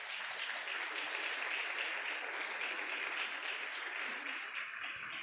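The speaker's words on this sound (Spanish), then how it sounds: "Dale un aplauso a la presencia de Dios." Church congregation applauding at a service, a distant, soft but sustained wash of many hands clapping that holds evenly throughout without any voices on top.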